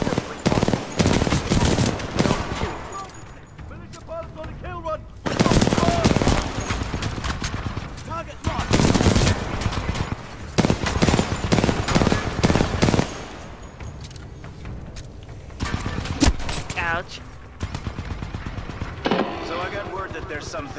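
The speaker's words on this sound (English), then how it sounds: "Keep it pinned! Suppressing fire!" Sustained bursts of suppressing automatic gunfire in the video game Titanfall 2, loud rapid volleys repeating in clusters with short pauses, mixed with impacts and battle noise as voices shout over it.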